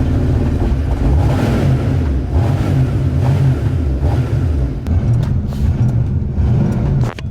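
A Ford Foxbody Mustang project car idles in a steady, healthy low burble with slight rhythmic lope, heard up close with a few faint clicks and knocks near the end.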